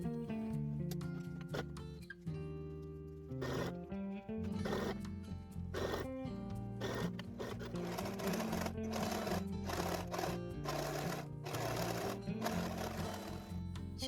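Sewing machine stitching a seam on an oversized sweatshirt, quiet uneven runs of motor whir and needle clatter starting and stopping with short pauses, heard close with no talk.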